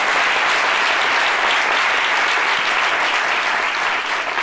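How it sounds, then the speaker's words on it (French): An audience at a tribute to actor Isaach de Bankolé breaks into loud, sustained applause, a thick, even roar of many clapping hands with no talk over it. "Très grand applaudissement."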